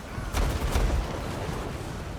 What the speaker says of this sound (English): What the hell are those grenade launchers shooting at?